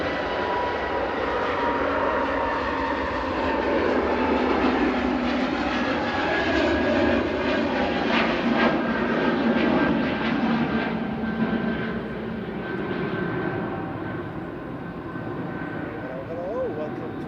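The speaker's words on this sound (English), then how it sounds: "EasyJet departing to Amsterdam." EasyJet jet airliner departing Manchester Airport for Amsterdam, a steady broad engine roar that holds fairly level throughout with a faint whine above, heard at a distance.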